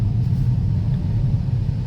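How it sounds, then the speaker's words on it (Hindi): Steady low rumble of heavy traffic on National Highway 65 near Vijayawada, with car and truck engines blending into a continuous drone that holds at an even, loud level. "काफी भीड़ भाड़ वाला नेशनल हाईवे लग रहा है ये अभी।"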